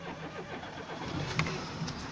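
A car engine runs at low volume in Lal Bagh, Sehwan, a steady, muffled rumble with faint background noise and a brief knock partway through.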